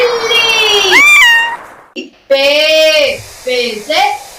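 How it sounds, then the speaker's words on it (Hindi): Several loud, close meows in a row, with short gaps between them, in the setting of a children's Urdu alphabet song. "बिल्ली,"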